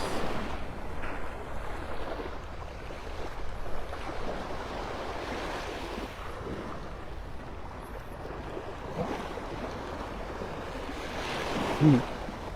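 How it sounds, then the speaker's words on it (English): Ocean waves wash steadily onto a beach at Vanderbilt Beach in North Naples, Florida, under a continuous rush of wind buffeting the microphone, with the surf swelling and fading at moderate loudness. "Get that wind blowing in your face."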